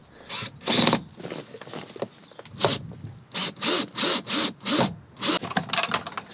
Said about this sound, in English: It's funny using my dad's clamps.